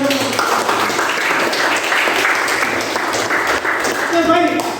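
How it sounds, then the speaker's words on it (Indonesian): A classroom of students claps together after a project poster presentation, a steady, dense patter of hands that holds throughout, with voices mixed in near the end. "kita tepuk tangan dulu"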